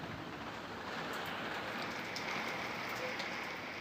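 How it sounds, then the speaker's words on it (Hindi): Heavy rain falls in a steady hiss with fine pattering drops striking nearby surfaces, continuous and fairly soft in level, with no talking over it. "वो देखो कितनी तेज बारिश"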